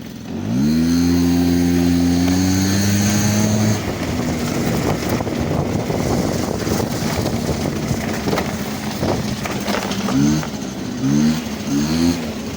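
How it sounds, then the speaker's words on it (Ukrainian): A scooter engine revs hard with a rising, then falling whine, settles into a rough busy idle, and is then blipped in several short quick revs near the end, recorded up close. "Після перегазовки холості тримає."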